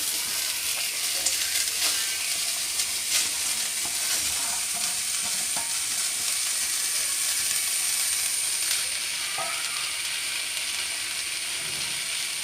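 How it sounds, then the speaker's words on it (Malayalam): Onions frying in a pan on a gas stove give a continuous close sizzle, with frequent scraping and clicking from stirring and no voices. "അപ്പോൾ ചട്ടി വെച്ച് കഴിഞ്ഞിട്ട് നമുക്ക് സവാള ഇടാം"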